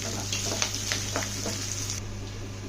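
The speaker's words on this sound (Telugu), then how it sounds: "ఇప్పుడు ఆయిల్ హీట్ ఎక్కినాక ఉల్లిపాయలు కరివేపాకు వేసి వీటిని బ్రౌన్ కలర్ వచ్చిందాక వేయించుదాం" Onions and curry leaves frying in hot oil, a dense continuous sizzle with several light stirring ticks over a steady hum, close and even in level.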